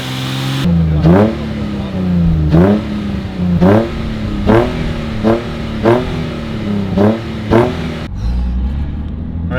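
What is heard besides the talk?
Nissan 350Z engine revving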